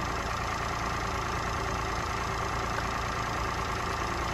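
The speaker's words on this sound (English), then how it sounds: "this is only a 1 litre engine" A Peugeot 107's small 1-litre engine idles steadily and evenly, a constant hum with no revving and no voices.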